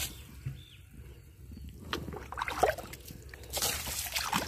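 Water trickles and sloshes through an irrigation channel beside long bean plants in the dry season, a faint, uneven flow with intermittent splashy bursts growing a little louder partway through.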